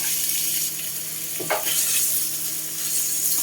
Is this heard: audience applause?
no